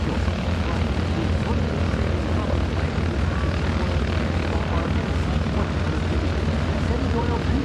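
A STOL competition airplane comes in to land at EAA AirVenture, its propeller engine droning steadily and loudly throughout with a constant rumble and no clear break.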